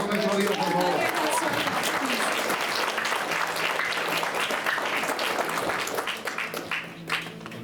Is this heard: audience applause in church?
yes